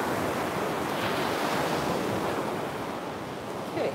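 Ocean waves break steadily at a beach with a continuous wash of surf and some wind rumble. The sound is loud and close, with no voices, and only a slight swell toward the end.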